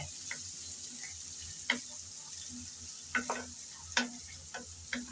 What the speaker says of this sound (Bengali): এখন চিংড়ি বাজার তেলে দিয়ে দিলাম পেঁয়াজ কুচি